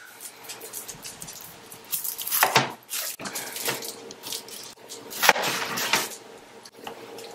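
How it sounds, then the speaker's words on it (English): A knife cuts pink onions in a home kitchen before sardines, ramen and eggs are cooked, giving a few scattered knocks and scraping cuts at close range with some clatter and no talk. "we need to cut the onion"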